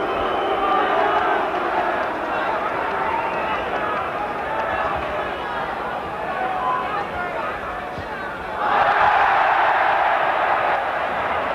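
A boxing crowd at a Bob Foster vs Chris Finnegan bout roars in a sustained, dense babble of voices, swelling louder near the end as the champion taunts his opponent.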